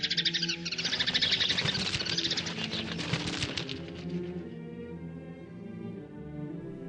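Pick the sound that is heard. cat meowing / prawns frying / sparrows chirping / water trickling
sparrows chirping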